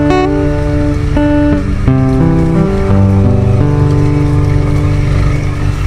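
A Honda CRF 300L dirt bike rides through the jungle, its single-cylinder engine buzzing loud and close, pitch rising and dropping as the rider works the throttle over rutted ground.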